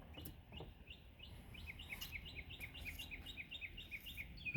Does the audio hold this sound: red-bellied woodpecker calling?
yes